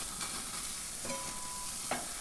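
Salisbury steaks sizzle steadily on a hot Weber Spirit gas grill at about 450 degrees just after flipping, a soft continuous crackle with a couple of brief tonal scrapes and clicks.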